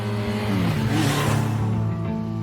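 A motorbike engine in an anime scene drones steadily as the bike glides through dazzling city lights at night, its tone sliding slightly in pitch. Close, smooth and sustained, with no voices.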